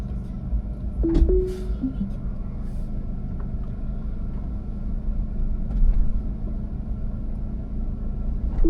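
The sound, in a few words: Tesla Cybertruck backing out of a garage on FSD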